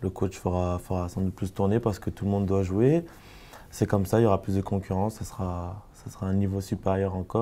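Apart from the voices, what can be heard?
None of the usual background noises is heard.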